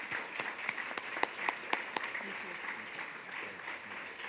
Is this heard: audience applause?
yes